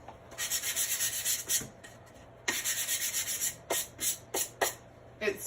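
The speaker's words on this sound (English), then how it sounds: "I'm going to take my little sanding disc, and I'm just going to quickly go like that on each of them." Quick rhythmic rasping strokes of sanding on wood, in short bursts with brief pauses, close and fairly quiet.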